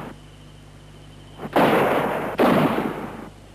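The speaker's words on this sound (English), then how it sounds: "Getting used to gunshots is the hardest part." Two sharp gunshot-like blasts crack out about a second apart during horse training for battle re-enactment scenes, each followed by a broad rushing decay over a low background hum.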